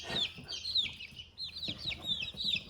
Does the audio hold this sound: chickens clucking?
yes